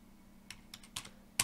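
Computer keyboard keys tapped while entering commands during Jumper R1 receiver telemetry setup, a few soft scattered clicks in a short burst ending with a sharper keystroke, close and quiet over a faint steady hum.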